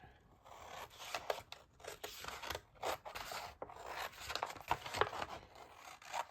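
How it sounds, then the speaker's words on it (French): Scissors snip through a folded square sheet of paper while making a zine, a close series of crisp, irregular cuts and rasping slices with brief pauses between strokes. "je vais couper lui par là et lui par là"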